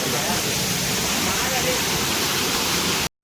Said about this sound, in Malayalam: ആ മഴയും പെയ്യുകയാണ് ഗൈസ്